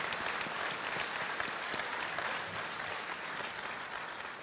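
Sustained audience applause at a high school athletic awards ceremony fills the room, a dense steady wash of many hands clapping throughout with no voices over it.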